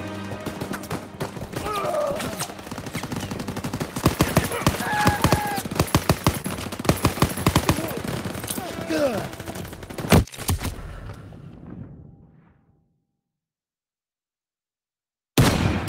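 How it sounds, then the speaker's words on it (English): Dense machine gun and rifle fire in a Call of Duty WWII battle, rapid bursts and single shots layered over each other with shouted voices, a loud blast near the end, then sudden silence. "Open fire! Someone get on the MG!"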